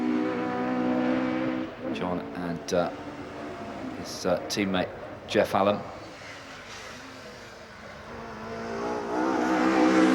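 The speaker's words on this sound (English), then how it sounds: "that 2-litre 4-cylinder Swindon-tuned Screamer working very hard" A 1992 Vauxhall touring car in period Vauxhall Sport livery, its Swindon-tuned 2-litre four-cylinder engine worked hard at a hillclimb, drones steadily beneath a commentator talking over much of it.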